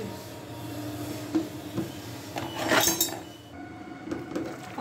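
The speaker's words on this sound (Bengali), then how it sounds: "দিয়ে এখন আমি ঢাকনা দিয়ে দেব ফুটা পর্যন্ত" Metal lid set onto a cooking pot of simmering jackfruit curry, giving a short clinking clatter amid soft kitchen noise.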